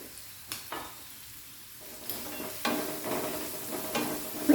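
Onions and coriander powder fry gently over a low flame for a chickpea curry. A soft, quiet sizzle is broken by a few intermittent spoon-stirring scrapes, with no one speaking.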